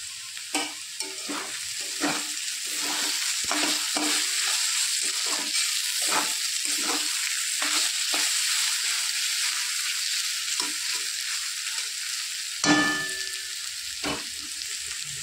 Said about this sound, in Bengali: আলুর চোখলা ভাজা প্রায় হয়ে এসছে, আর একটুখানি নেড়ে চেড়ে নামিয়ে নেব